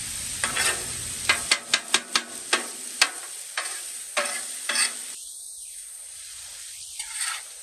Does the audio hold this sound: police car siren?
no